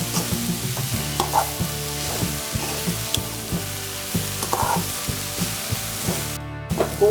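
Banana flower thoran is stirred and mixed in a hot pan, producing repeated rhythmic scraping strokes over a steady sizzle, loud and close with no talking.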